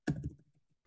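A quick cluster of computer keyboard keystrokes, close and faint, fading within a second.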